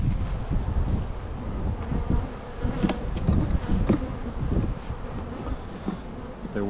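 Dense buzzing of many honey bees swarms close around a hive in a nuc yard, a steady insect drone with some wind rumble underneath.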